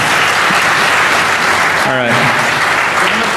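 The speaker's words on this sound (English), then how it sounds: "How about a round of applause for these guys?" Loud, dense audience applause at a DEFCON 20 conference talk fills the whole clip, with a voice briefly speaking over it partway through.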